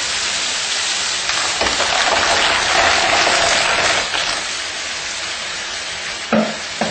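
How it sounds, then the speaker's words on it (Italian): Mussels tip into a hot pan for a mussel soup, sending up a steady broadband sizzle with a brief louder clatter near the end; close and continuous, no voices. "Ora aggiungiamo le cozze."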